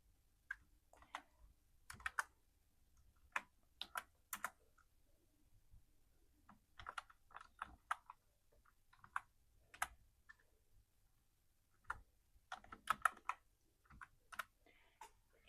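Someone types on a computer keyboard in short, irregular bursts of soft key clicks with pauses between them. The sound is quiet and close, in a still room with no talk.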